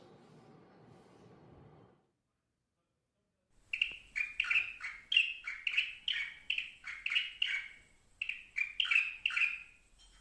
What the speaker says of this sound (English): So many birds come to my balcony. They keep chirping non-stop.